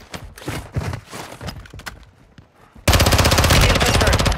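Video game gunfire crackles in ragged bursts, then breaks into a loud, continuous rapid-fire stream that fills the final second and a half.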